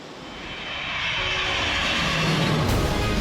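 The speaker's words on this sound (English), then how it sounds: "A bold, dependable transport aircraft is bringing Ifu from the land where Mount Fuji stands" A Kawasaki C-2 military transport aircraft passes with a broad, steady jet-engine roar that swells gradually and holds loud, with no voices.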